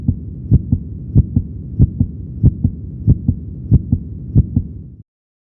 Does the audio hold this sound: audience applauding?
no